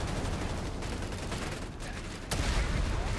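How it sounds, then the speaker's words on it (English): Heavy machine gun fire rattles in the Company of Heroes 3 video game as a dense, continuous stream of rapid shots amid battle noise, with a louder burst near the end. "Heavy machine gun on the left."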